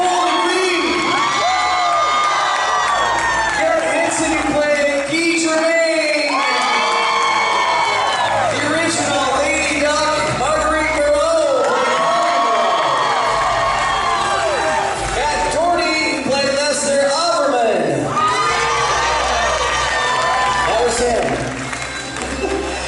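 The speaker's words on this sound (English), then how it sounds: "They're going to put up their hands and give them a big cheer." Crowd at an anniversary screening and cast reunion Q&A for The Mighty Ducks cheers loudly, with whoops, shouts and applause swelling in repeated waves over a long stretch, and voices mixed in.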